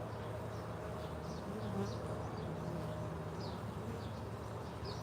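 Honey bees hum and buzz at a beehive, a dense continuous drone with individual insects zipping past the microphone now and then, and a faint bird call somewhere in the background.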